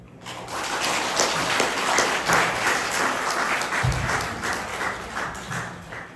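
An audience at a Taego Order monks' training assembly applauds a lecture by a senior monk, a sustained burst of many hands clapping that swells, holds steady for several seconds and then fades.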